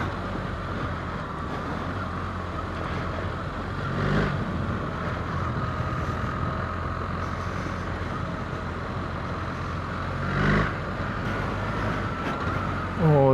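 BMW R 1300 GS Adventure motorcycle riding over loose gravel, with a steady broadband rumble of engine, tyres and wind throughout and brief louder surges near the start and end.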